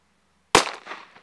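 A small Silver Pirate firecracker loaded with 0.8 g of black powder bursts in one sharp, loud bang after silence, followed by a short rumbling echo that fades within a second.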